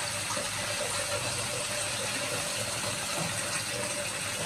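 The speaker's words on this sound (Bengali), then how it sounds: "সেখানে একটু হালকা পানি দেবো" Water pours steadily into a cooking pan of broccoli, a continuous close hiss and gush that holds at an even level throughout with no talk.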